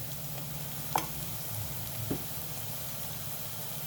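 Ginger garlic paste and turmeric stirred in a hot pan for ridge gourd curry, a steady sizzle of frying with a couple of soft spoon scrapes and knocks against the pan.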